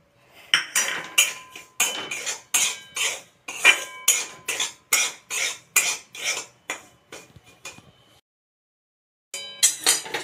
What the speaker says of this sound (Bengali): সুজিটা আমি হালকা তেলে নিয়েছি